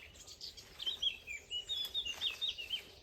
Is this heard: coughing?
no